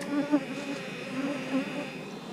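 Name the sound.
honey bees buzzing on a hive frame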